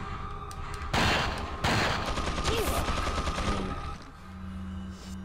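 Rapid bursts of minigun fire rattle loudly in the survival horror game Resident Evil 4, coming in two heavy volleys followed by a sustained stream of shots, with a lower whir continuing after the firing stops.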